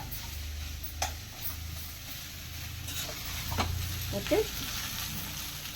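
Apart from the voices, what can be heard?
corn dumplings frying lightly in a pan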